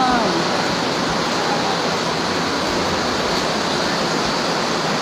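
Heavy floodwater rushes through a flooded maternity hospital, a dense, steady roar of flowing water filling the space at constant loudness for several seconds with no pauses.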